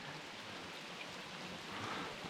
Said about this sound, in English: It's pouring rain and I'm getting the best bite of the day.